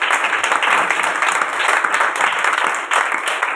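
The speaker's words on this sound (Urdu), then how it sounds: "تالیاں لگائیں خداوند کے لیے۔" Church congregation clapping together during a worship service, brisk rhythmic applause from many hands, steady and close throughout.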